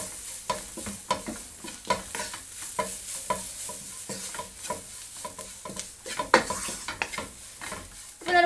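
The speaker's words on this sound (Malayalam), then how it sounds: "ഇതിനെ നന്നായിട്ടൊന്ന് മൂപ്പിച്ചെടുക്കാം." Masala spices roast in a pan for Kerala chicken tapioca biryani: chilli powder, coriander powder and garam masala fry with a continuous sizzle under repeated close scraping and stirring, with occasional utensil clinks.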